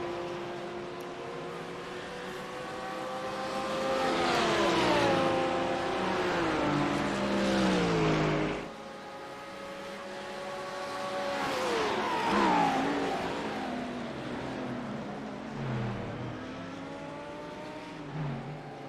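GT race cars of the Global Racing League series passing on track: engines rise and fall in pitch as cars scream by in two or three close, loud passes, with no talking.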